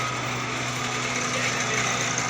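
An old 60 hp Indo Farm tractor engine runs steadily close by, a continuous buzzing drone with a low hum and no breaks or voices.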